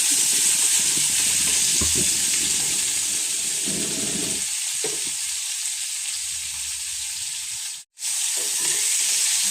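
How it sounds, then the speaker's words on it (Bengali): Vegetables for sukhto are stirred and fried in a kadai, making a loud continuous sizzle with scraping stirs that briefly drops out near the end before the frying hiss returns. "যাতে না হয় তার জন্য অল্প একটু নেড়ে ভেজে নেব।"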